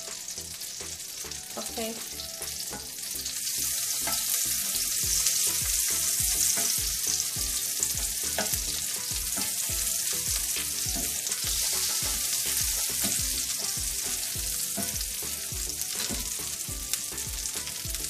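Butter sizzles steadily in a hot pan at close range with a dense, continuous crackle. Rhythmic scraping and stirring knocks run through it, and a voice speaks briefly.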